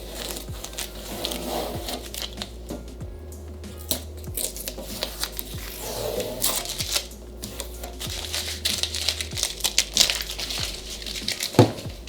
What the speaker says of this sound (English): I'm gonna go ahead and remove all the tape.